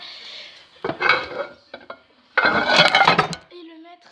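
Frozen salmon being lifted off a plate and set into a glass jar, with clinks and knocks of dishes and glass in two bursts and a short rattle at the end.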